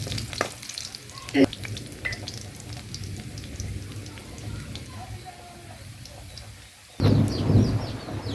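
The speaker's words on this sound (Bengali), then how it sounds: "অন্য একটি কড়াইতে তেল নিল সেখানে কিছু রসুন কুচি দিয়ে দিল" Chopped garlic fries in oil in a separate pan for a dal tempering, giving a soft, continuous crackle with scattered pops, until a louder low rumbling burst takes over near the end.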